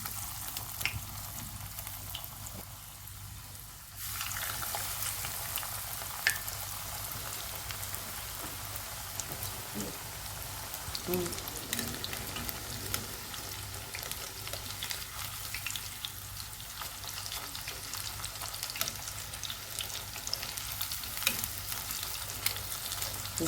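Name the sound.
hot oil sizzling in a pan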